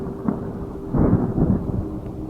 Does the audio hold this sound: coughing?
no